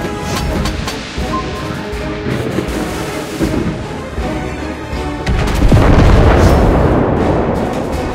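Heavy booming explosions and gunfire in World of Warships Blitz, loud and continuous, with a strong low rumbling blast swelling midway as torpedoes strike and the barrage carries on.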